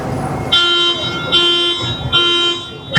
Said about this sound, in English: that alarm went off